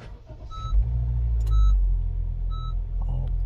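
A 2021 Honda HR-V with a low key-fob battery warning is started: a few electronic chimes sound over a deep engine rumble that swells and then settles into a steady idle, close by.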